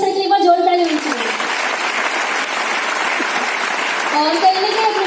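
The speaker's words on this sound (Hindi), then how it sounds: "मैं चाहूंगी मेरे upline miss Bharti ma'am sir दीपक सर के लिए एक बार जोर ताली होनी चाहिए" Applause for seniors at a Smart Value Lead-24 program in Delhi, a dense wash of clapping from a crowd filling the middle of the clip, with someone talking before and after it.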